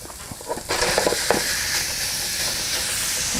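Ground beef hits a hot pan and sizzles loudly, settling into a steady hissing fry with a few stirring clatters early on.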